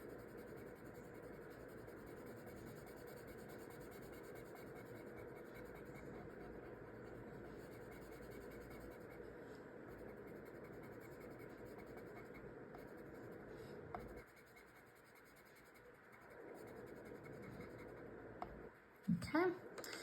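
Pencil scratching on paper while coloring flowers, using the side of the pencil in a holiday coloring session; a steady, soft continuous rubbing that pauses briefly near the end, with speech present.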